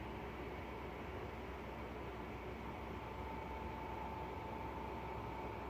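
A tornado approaching during a hailstorm with 65 mph wind gusts gives a continuous, train-like roar, a broad steady rumble that holds at an even level throughout, distant and faint, with no voices.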